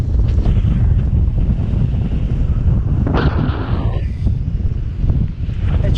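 Strong wind buffets the microphone on the stormy Pendle Hill summit, a loud continuous roar with gusty swells and no pause throughout.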